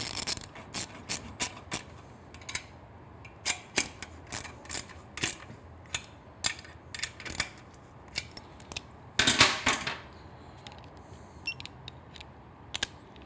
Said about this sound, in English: We're going to tighten the flange bolts down.